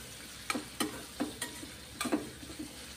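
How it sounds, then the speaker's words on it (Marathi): Chopped onion is stirred into a hot tempering over a low flame for a Maharashtrian dill-leaf bhaji. A spatula scrapes the pan in several distinct, fairly regular strokes over a faint sizzle, with no voices. "कांदा टाकल्यानंतर फोडणीत आपल्याला व्यवस्थित परतून घ्यायचं आहे"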